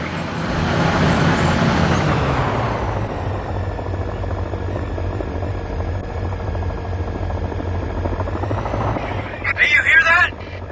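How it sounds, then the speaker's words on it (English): In the war game Frontlines: Fuel of War, a heavy attack helicopter drones loudly with rotor roar and engine whine, holding steady and close before a sharp burst of noise near the end, with voices talking over it. "Enemy choppers inbound to your position."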